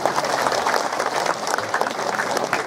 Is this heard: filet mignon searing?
no